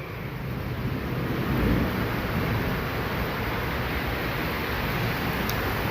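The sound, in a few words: rain storm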